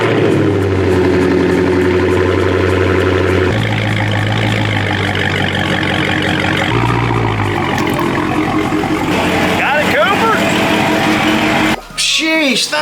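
A Dodge Hellcat's engine rumbles steadily at idle while the car is being parked, loud and close, shifting in tone a few times as it creeps along before it cuts off near the end; voices are heard over it.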